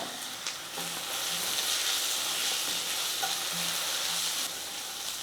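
Onion, ginger-garlic paste and turmeric sauté in a pan for potato masala, with a dense steady sizzle and a few faint scrapes of stirring, no one talking.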